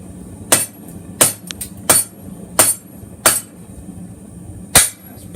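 Sharp metallic hammer strikes ring out one at a time at a steady pace, six loud, close blows with quiet gaps between them, straightening a forged steel chef knife blade.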